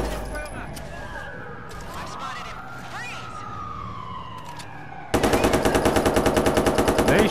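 Watch Dogs 2 video game: police sirens wail and sweep for several seconds, then a loud, rapid burst of automatic gunfire rattles steadily to the end.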